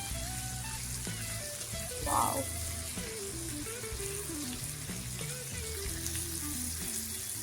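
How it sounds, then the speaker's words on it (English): Food sizzles and fries in a pan, a steady crackling hiss running throughout, with a brief exclamation from a voice partway through. "Listen to the sizzling sound."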